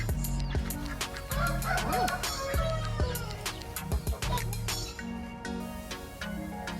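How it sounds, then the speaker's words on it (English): Pigeons at a petting zoo coo and call in repeated low, warbling phrases close by, mixed with other fowl noises and light clinks, with occasional voices in the background. "Oh, these are pigeons."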